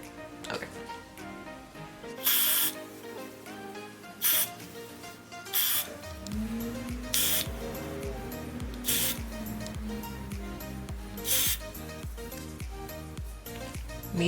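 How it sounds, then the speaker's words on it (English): Got2b hair spray is sprayed around a hairline in short bursts during a frontal wig install, several brief hissing sprays spaced a couple of seconds apart over steady background music. "I'm gonna take my got to be spray and I'm gonna just spray that around my hairline"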